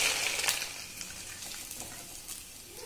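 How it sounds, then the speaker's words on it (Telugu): Sago fritters sizzle in hot oil, a steady close hiss and crackle that starts loud and settles slightly, with no talk over it. "ఇప్పుడు నేను ఆయిల్లో వేసుకున్నాను."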